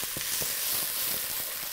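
Chopped onion sweats in oil in a cooking pot, giving a steady, close hiss and sizzle with faint crackles and soft stirring taps.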